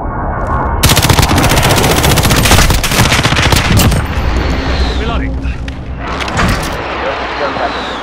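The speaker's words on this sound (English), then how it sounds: "Precision airstrike, get down!" Rapid machine-gun fire and heavy explosions from a precision airstrike in Call of Duty, loud and close, with a dense burst of automatic shots followed by rumbling blasts and a voice calling out over the din.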